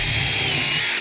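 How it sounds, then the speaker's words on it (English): A power drill pre-drills a hole into deck wood, giving a steady loud high motor whine with a grinding bite into the timber, continuous and close until it cuts off. "So we're just going to pre-drill"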